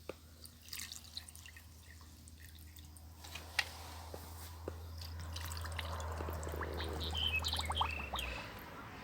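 Cooled salt brine made with sugar is poured over homemade cheese, starting with scattered drips, then building into a steady close trickle and splash of liquid over a low background hum.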